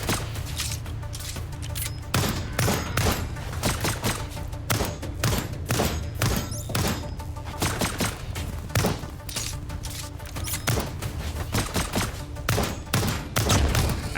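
A player's gun in the Lost Skies video game firing in rapid, fairly even bursts of sharp cracks that run nearly nonstop over a steady game background.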